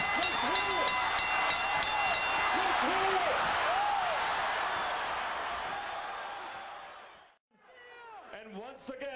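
A boxing arena crowd at the Riddick Bowe vs Evander Holyfield rematch rises in a loud, sustained roar that fades after several seconds, with a commentator's voice over it.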